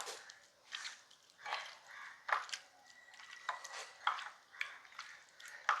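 Coconut pieces frying in a pan for a prawn and ridge gourd dish: quiet, irregular scraping and stirring scuffs with small crackles and clinks, repeating every second or so.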